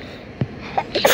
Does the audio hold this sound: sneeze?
yes